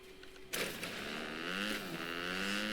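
A motorcycle in the video game Fortnite starts up abruptly and holds a steady, loud engine drone with slight rises in pitch as it revs, heard alone without talk.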